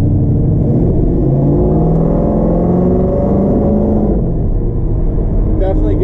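A 1970 Chevrolet Nova driving and accelerating, a loud low engine rumble with rising revs inside the cabin, with someone talking over it.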